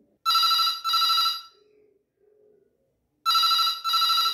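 An Airtel Xtreme Fiber landline telephone rings with a loud electronic double ring, a pause with a faint low tone, then another double ring, heard close and clear.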